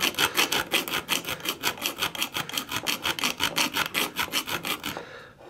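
A metal throttle body screw gets a screwdriver slot cut into its head with a rapid, even run of rasping back-and-forth strokes, close and loud, stopping abruptly near the end.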